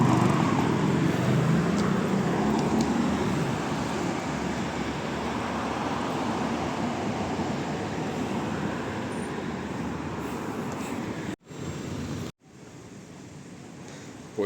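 Dense road traffic in a Georgian city produces a constant, loud roar of passing vehicles that barely eases, heard from close by, with two brief dropouts near the end.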